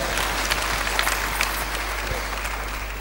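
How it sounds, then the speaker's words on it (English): Congregation applause during a church sermon, a continuous even burst of many hands clapping with a low steady hum beneath it. "give her a round of applause"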